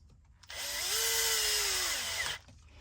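A power driver whirs up and holds a steady whine for about two seconds while driving a screw to mount a Radiolink Cool 9030 brushed ESC on an RC crawler, loud and close with no talk.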